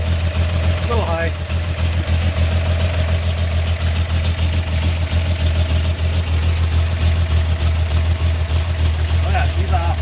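A steady engine idles at about 800 RPM, a continuous low hum running unbroken through the whole stretch, with a person talking briefly over it.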